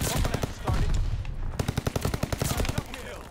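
Rapid automatic gunfire from a match of Call of Duty: Vanguard Search and Destroy, a dense burst followed by a run of evenly spaced loud shots, close and punchy with game noise underneath.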